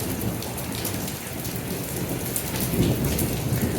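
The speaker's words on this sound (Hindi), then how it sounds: "बारिश तेज हो गई है जी।" Heavy monsoon-style rain in Pakistan pours down steadily and densely, with a low rumble underneath and no voices.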